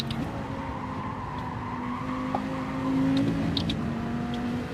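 Race car in Gran Turismo 7 at Daytona braking hard and sliding, a steady loud engine drone with tire squeal rising toward the end, continuous throughout.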